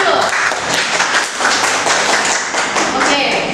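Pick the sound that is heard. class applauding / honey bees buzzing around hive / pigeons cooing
class applauding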